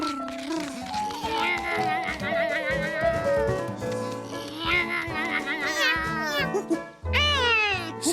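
A cartoon cat meows and caterwauls in long, wavering, drawn-out cries, loud and close, overlapping with lively animated voices and sound effects.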